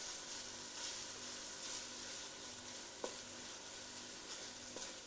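Chicken biryani base cooks in a pot with a steady, close sizzle and hiss of frying, broken by a couple of faint clinks from a utensil against the pot.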